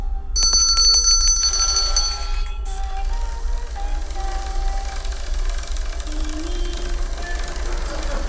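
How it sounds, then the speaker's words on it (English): A small bell rings a few bright, quick strokes near the start and its tone lingers and fades, over a steady low hum. "when I ring the bell, the doll's right arm comes up"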